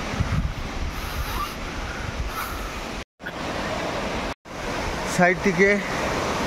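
Rani Duduma waterfall in Koraput, Odisha, a steady broad rush of falling water mixed with wind buffeting, while a person speaks over it and a brief bird-like call cuts through near the end.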